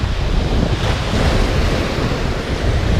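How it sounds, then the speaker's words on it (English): Flowing water outdoors beside a hiking track on the way to Hazards Beach, a steady, loud, continuous rush mixed with wind buffeting against the microphone. "So we do have flowing water."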